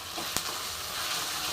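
Onion and ginger-garlic paste sizzle in a pan for misal, a steady close hiss with one small click near the start.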